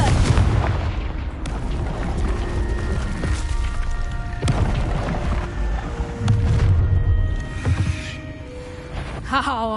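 Booming spell blasts from the Confringo fire charm in Hogwarts Legacy, a series of loud explosive bursts and rumbling impacts layered over game effects, with a voice briefly speaking.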